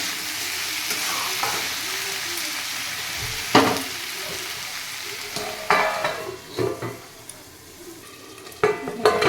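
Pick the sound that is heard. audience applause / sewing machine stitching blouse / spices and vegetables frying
spices and vegetables frying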